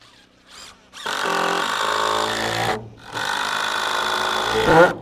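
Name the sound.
cordless drill driving 3-inch screws into wood blocking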